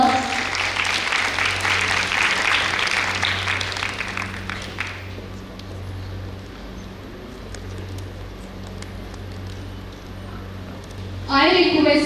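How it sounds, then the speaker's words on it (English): Applause from an audience at a girls' hostel freshers' day college event, a dense wash of clapping for about five seconds that then fades to a low murmur of room noise before a brief burst of clapping returns near the end. "Give her a huge round of applause"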